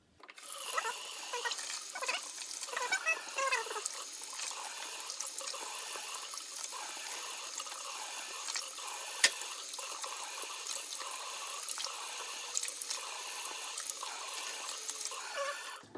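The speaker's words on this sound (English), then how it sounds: "the next step is to rinse them off and then dry them. So take them over to your sink" Tap water runs steadily into a sink as food is rinsed, a continuous close splashing rush with occasional faint clatters, heard alone for the whole stretch.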